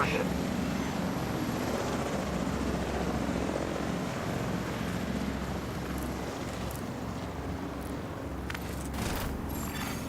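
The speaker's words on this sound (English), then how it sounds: "Brenner, Recon 4 has a visual on an unknown helo headed east over the Potomac." Helicopter in a video game flying over the Potomac, a constant dense rotor-and-engine roar that fills the whole stretch without a break, with faint game sounds near the end.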